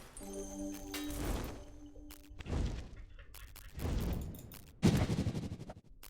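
Gunfire in the video game Project: Gorgon, a few heavy booming shots with ringing tails spread over several seconds, the last one sharper and louder than the rest.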